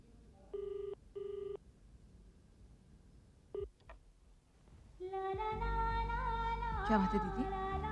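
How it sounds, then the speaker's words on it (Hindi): A telephone call goes unanswered: a few short keypad tones, then a steady ringing tone with a louder ring burst near the end, faint and alone indoors. "घंटी बज रही, कोई उठा ही नहीं रहा"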